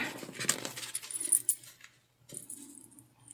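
Metal zipper for a drawstring backpack being picked up and handled on a sewing table, giving light jangling metallic clinks and rattles in short bursts, close and fairly quiet, with a pause before more handling.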